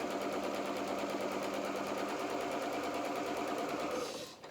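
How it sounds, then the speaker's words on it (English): A sewing machine runs fast and continuously while stitching a dress seam, a steady close whir that stops abruptly at the end. "Just sew as slowly or as quickly as you are comfortable doing."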